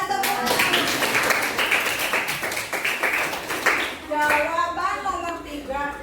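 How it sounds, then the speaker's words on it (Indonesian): A classroom group claps together in a steady burst of applause, with children's voices and chatter rising over the clapping toward the end. "Iya, tepuk tangan."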